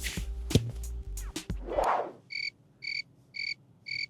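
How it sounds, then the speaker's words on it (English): After some brief clattering and a soft whoosh, crickets chirp in four evenly spaced, clear bursts, like a quiet sound effect. "Crickets."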